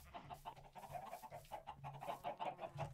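Chickens in the video game Minecraft cluck in quick, overlapping bursts, a busy flock noise that carries on without a break at a fairly quiet level.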